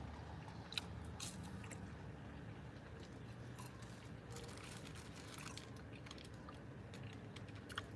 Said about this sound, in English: I'm eating French fries.